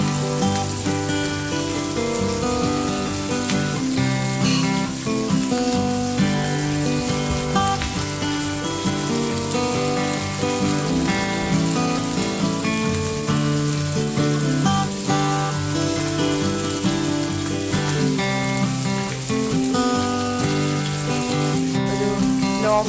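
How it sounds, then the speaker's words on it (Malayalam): Kerala-style sheri fish fries in oil on a low flame, giving a dense, steady sizzle and crackle that runs unbroken and fairly loud for the whole stretch, with no speech. "ഒരു ലോ ഫ്ലെയിമിൽ വെച്ചാണ് ഇത് ഫ്രൈ ചെയ്തെടുക്കേണ്ടത്."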